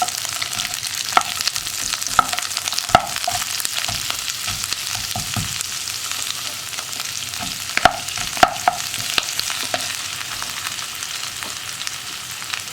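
Split green chillies and onion frying in coconut oil for a Kerala egg curry, a steady loud sizzle up close with occasional stirring scrapes and pops throughout, no talking.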